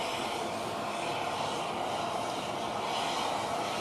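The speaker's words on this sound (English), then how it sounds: "And there are 4 of those engines that are powering this airplane." Air Force One's four jet engines run on the ground in West Texas, making a steady, loud, broadband roar and whine that holds unchanged throughout with no speech.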